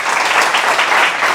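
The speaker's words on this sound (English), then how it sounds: "So can we have a round of applause for you folks" A college audience claps together in a dense, continuous burst of applause, even and fairly loud from start to finish, with no talking over it.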